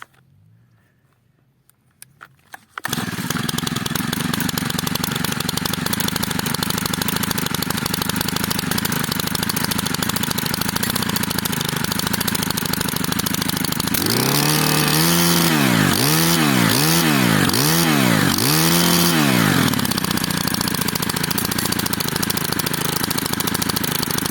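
A Stihl KM 90R multi-tool with a 4-MIX engine starts after a brief quiet and runs loud and close in a field, holding a steady idle and then revving up and down in several rhythmic surges.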